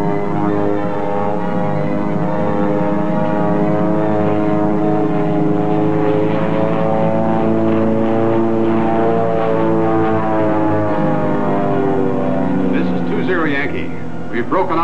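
Single-propeller airplane in gliding flight during a 1962 instrument training flight, a steady loud drone with strong harmonic engine tones throughout, with radio voices talking over it.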